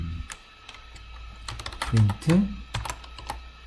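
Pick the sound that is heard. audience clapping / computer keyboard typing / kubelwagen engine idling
computer keyboard typing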